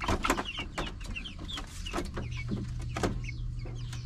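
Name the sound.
chickens clucking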